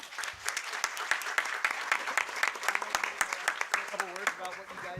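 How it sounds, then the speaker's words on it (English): Audience applause at a town council meeting, a steady wash of many hands clapping with crisp individual claps, a voice briefly heard near the end. "Round of applause."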